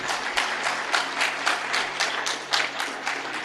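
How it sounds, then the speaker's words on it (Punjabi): A congregation at a sermon claps loudly in a steady, rhythmic beat, many hands striking together roughly three times a second with no voices over it. "ਤਾਲੀ ਮਾਰੀਏ ਜ਼ੋਰ ਤੋਂ"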